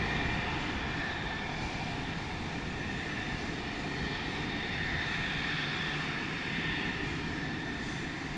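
A light combat helicopter at an air show display in Bengaluru flies away, its engine and rotor noise a steady, loud, broad roar that stays even throughout, with no voices.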